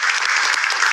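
Studio audience on the Macedonian game show Se ili Nešto breaking into loud, dense applause, a continuous close clatter of many hands with no voices over it.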